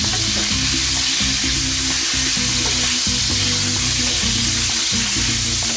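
Pork ribs fry in a hot pan with a loud, close, continuous sizzle, broken by repeated scraping and stirring strokes, no one speaking.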